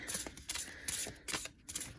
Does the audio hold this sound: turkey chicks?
no